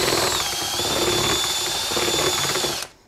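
A drill fitted with a mixer paddle churns drywall mud on high speed, a loud steady whirring whine close by that runs evenly for nearly three seconds before cutting off abruptly.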